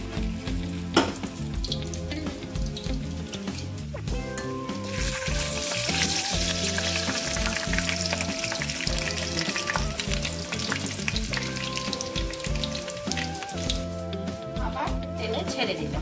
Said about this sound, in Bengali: এবার আমি তেল গরম হয়ে গেছে, একটা একটা করে ছেড়ে দিচ্ছি তেলে।